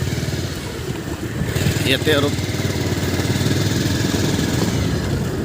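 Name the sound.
motorcycle engine noise while riding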